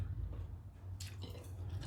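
Teeth bite into soft, long-boiled young pork bone in a spicy Thai soup, giving a few close, quiet crunches and squishy chewing sounds with no talk.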